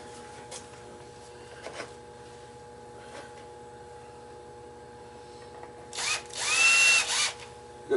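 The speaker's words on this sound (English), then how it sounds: "Let's get a couple of screws loose there." A power drill loosens screws at an old farmhouse, quiet handling sounds and soft hum first, then a short whirring burst near the end, fairly close and not very loud.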